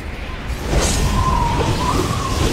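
Infinite Resonance, a sonic attack spell from the Sword of Gith in Mask of the Betrayer, hums as a sustained ringing tone with a soft whoosh over a low rumbling ambience, steady and moderately loud.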